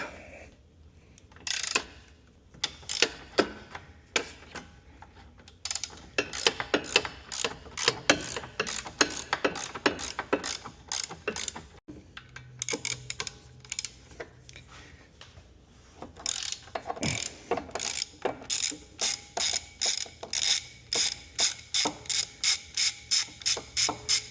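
A ratchet with a swivel extension works loose an extended wheel stud on a car hub, giving long runs of rapid close clicking in bursts with short pauses between pulls, no voices.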